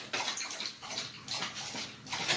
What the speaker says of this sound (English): So I can hear a little bit of bubbling on this one, a little fizz to it.